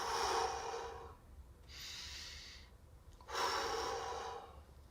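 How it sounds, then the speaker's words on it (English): Deep, slow breaths drawn in through the nose and pushed out through the mouth, three broad airy exhales with short quiet gaps between them, close and fairly loud with no talking. "Remember to breathe in through the nose"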